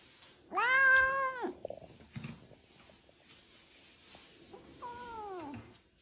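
A cat lets out two drawn-out, harsh yowls, the first loud and long, the second shorter and fainter, with a brief scuffle of noise between them.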